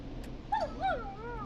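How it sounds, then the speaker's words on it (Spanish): A dog in a night-time scene from the video game Killer Frequency lets out two short whimpering yips, fairly close, over a quiet low background hum. "Is that a neighbor's dog?"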